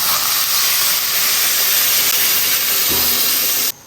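Clear water poured into a hot pot of fried lamb shank bones and bean dregs, giving a loud, steady steaming hiss that holds for several seconds before cutting off abruptly near the end.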